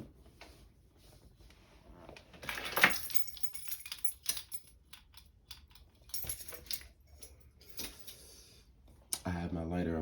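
Keys with a lighter attached jangle in a quiet room, a few sharp metallic rattles and clinks scattered among soft handling noises, with a voice talking faintly at times.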